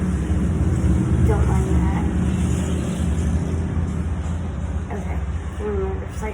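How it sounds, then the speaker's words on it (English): Cars and motorcycles pass outdoors in a steady low rumble of road traffic that swells and fades, with a voice talking over it nearby. "you're gonna hear cars and motorcycles and stuff"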